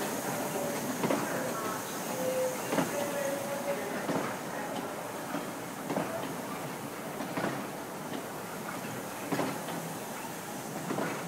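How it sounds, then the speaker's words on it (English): An East Coast train approaches a platform at Peterborough station, rumbling steadily with a regular clickety-clack of wheels over rail joints and a faint hiss, fairly close and with no other sound over it. "Train now approaching platform number 4"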